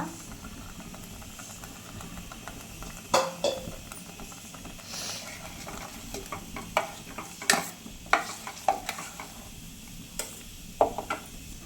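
Ghee rice in a pan with a little water added gives a steady hiss and sizzle, with a run of clattering stir strokes and scrapes from the middle onward, close and fairly loud, without talking.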